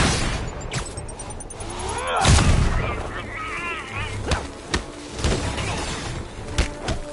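Gunfire and a grenade blast ring out in a Spider-Man video game, with a loud boom followed by scattered sharp shots and game sound effects.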